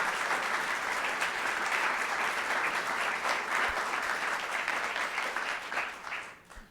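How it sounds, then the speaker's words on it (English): A large audience at an evening conversation event on dance bursts into sustained, dense applause that holds steady and loud, then tapers off toward the end. "So we do need to hear your applause"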